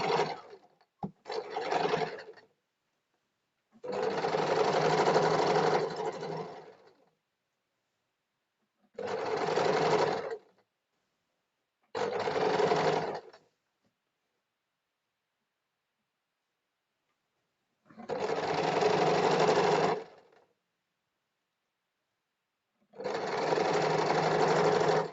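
A sewing machine stitches a princess cut blouse in short separate bursts of fast rhythmic clatter, broken by silent gaps, close and clear.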